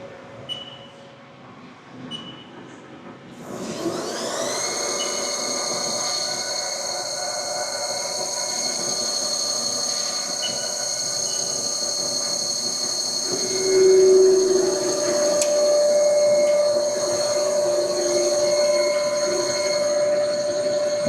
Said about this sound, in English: we're turning it at an RPM of 1800, which is the max for this machine